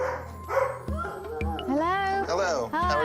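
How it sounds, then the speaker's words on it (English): Dogs in a family home yip and let out rising, wavering whimpers and whines in quick succession, fairly close, while people talk over them throughout. "I can hear dogs."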